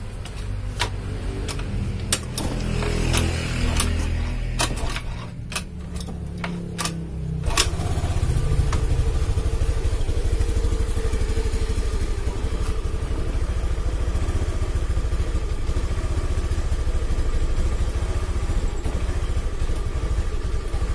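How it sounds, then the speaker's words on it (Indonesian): Motorcycle engine idling unevenly, its RPM rising and falling, with a suspected weak fuel pump; a loud, close rumble with rattly clatter early on, settling into a steadier drone partway through, with no talk. "Tuh, RPM naik turun stasioner atau langsamnya."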